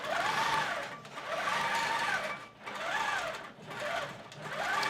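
Longarm quilting machine stitching a design across a quilt: a steady, fast mechanical whir with rising and falling swells as the head moves, a brief dip in between, and no talking.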